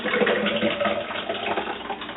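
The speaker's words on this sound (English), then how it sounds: "we're going to go ahead and pour a mixture back into a receptacle that will allow us to easily pour" Peach fruit roll-up mixture being poured from a blender into a receptacle, giving a continuous wet, splashing liquid pour at moderate level for a couple of seconds.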